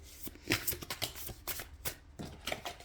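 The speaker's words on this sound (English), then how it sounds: "I'm just shuffling. I want to do a good shuffle here." Tarot cards being shuffled by hand, a series of quick, crisp riffling and slapping bursts in an uneven rhythm, close and fairly quiet.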